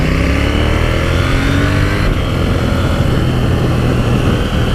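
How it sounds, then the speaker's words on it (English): A 2018 KTM 790 Duke motorcycle engine with a standard pipe holds a steady, low, throaty rumble at close range, its pitch shifting slightly as it runs, with no voices. "I really do love the way the engine sounds on this machine."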